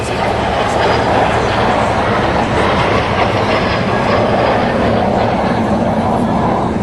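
A Canadian-built T-33 Silver Star jet trainer with a British engine, appearing at a UK air show, gives a loud, steady broadband roar that holds evenly throughout without any break.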